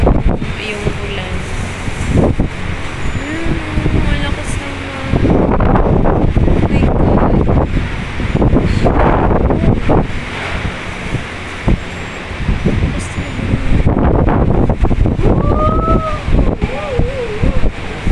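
Wind drives rain across Manila Bay in a steady, loud outdoor roar that swells and gusts, with voices talking over it at intervals.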